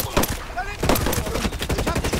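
Gunfire in Ghost Recon Breakpoint, with rapid bursts of automatic shots and sharp cracks close by, dense and loud, with a brief lull before more volleys.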